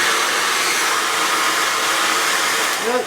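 Dyson Supersonic hair dryer running, a loud steady high-pitched airy whoosh held constant and close throughout, heard alone.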